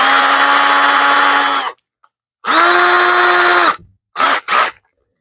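A power drill bores into a teak boat chair in two long, steady whining runs separated by a pause, then two short bursts, its motor tone sinking as it slows at the end of each run.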